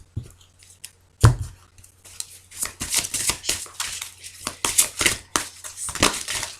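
Tarot cards shuffled and cut by hand in a quiet room, a sharp slap followed by a run of dry, papery riffles and taps of uneven rhythm, close and clear with no voices.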